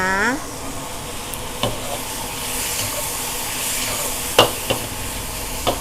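Pad thai is stir-fried with freshly added vegetables in a busy Thai food kitchen, giving a continuous hissing sizzle punctuated by a few sharp clacks of a spatula against the pan.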